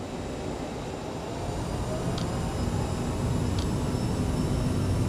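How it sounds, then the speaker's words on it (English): Jet engines of a CRJ-700 spool up to takeoff thrust in Microsoft Flight Simulator, a continuous broad rumbling roar that builds slightly louder partway through, with faint high tones and two brief clicks. "We're going to do a toga takeoff."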